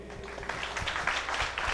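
Dense, steady audience applause at a live variety show, a continuous wash of many hands clapping together, fairly soft and distant throughout.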